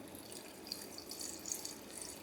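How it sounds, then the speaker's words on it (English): Sugar water pours steadily from a container over cut oranges in a kitchen, a soft continuous splash and trickle at low level with no voices. "I'm just going to go ahead and pour this sugar water on top of these oranges here"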